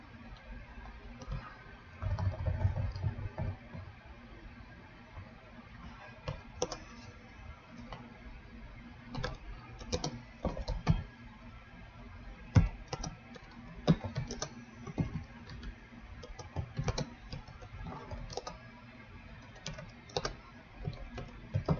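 Typing on a computer keyboard with a faulty O key, a long run of close, uneven key clicks and taps in bursts with short pauses.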